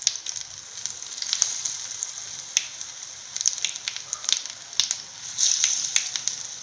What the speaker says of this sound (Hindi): लगभग 1 से 2 मिनट में शायद ये फ्राई हो जाएगी